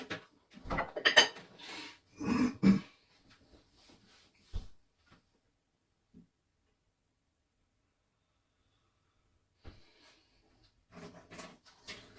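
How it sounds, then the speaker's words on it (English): Kitchen clatter as a knife is fetched, with cutlery and dishes knocking together in a few short bursts near the start, then long near-silence before faint clinks and rustles return at the end. "Actually, I do need a knife as well. Let me just get a knife."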